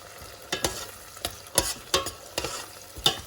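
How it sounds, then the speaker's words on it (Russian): Onions frying in a pan, a soft sizzle broken by several sharp scraping stirs at uneven intervals, close and fairly quiet, with no voices. "К этому времени лук уже обжарился до бледно-золотистого цвета."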